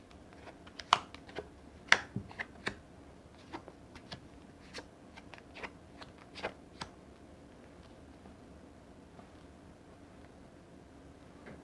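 Tarot cards are handled and laid out on a table, a series of faint, close, sharp taps and flicks that come thick at first and then thin out, with no talk.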